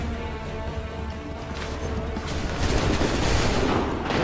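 Musket volleys in an Assassin's Creed III battle, a dense crackle of massed gunfire and booms rolling continuously, swelling louder toward the end amid the noise of the fight.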